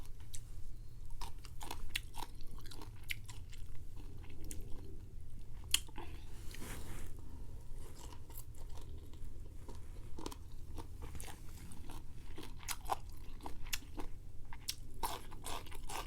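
Crunchy som tam, a Thai green papaya salad, being chewed close to the mic in steady wet crunching bites over a constant low background hum, with no talking.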